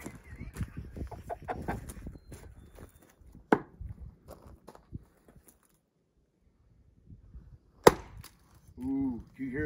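An Arnett Wedge-banger drives a wedge into a log, with two sharp, loud metallic strikes among scattered lighter knocks and thumps, while chickens cluck nearby.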